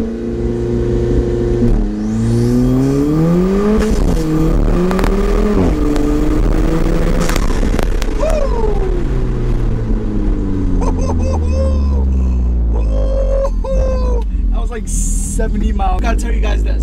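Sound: Alfa Romeo 4C launch control with cold air intake

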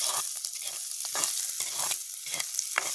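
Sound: onion, garlic and chili sautéing in a pan

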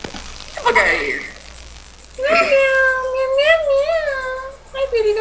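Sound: cat meowing in Minecraft video game

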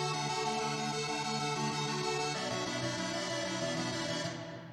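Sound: Blackbird free synth plugin, reduced Supersonic clone, square wave

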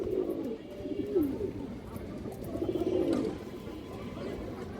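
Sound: pigeons cooing

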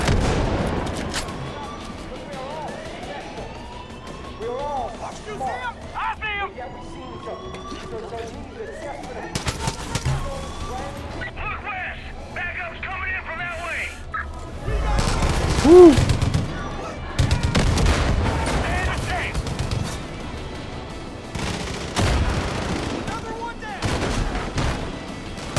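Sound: gunfire in the video game Far Cry 5

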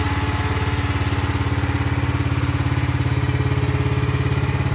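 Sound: engine starting and running

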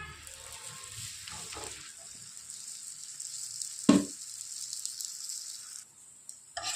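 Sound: chapati frying in butter on a pan

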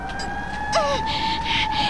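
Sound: distant fire truck siren

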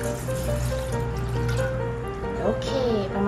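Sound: pouring two measuring cups of water into camping pot

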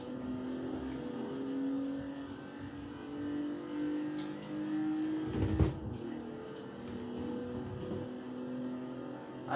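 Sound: BMW i8 accelerating in video game Forza Horizon 4

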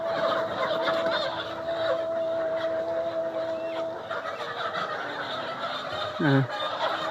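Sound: layer chickens on a poultry farm

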